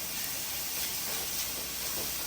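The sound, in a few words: mushrooms added to a pan for pasta primavera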